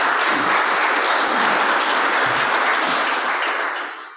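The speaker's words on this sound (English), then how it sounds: "So let's give them a round of applause" An audience at a community meeting applauds with dense, vigorous clapping that holds steady for several seconds and then fades out.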